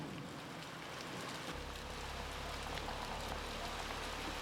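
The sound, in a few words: heavy monsoon rain storm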